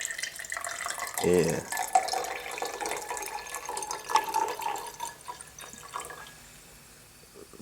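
Water is poured into a glass after passing through a cigarette filter, a near trickling splash with drips that fades toward the end, while a person speaks briefly.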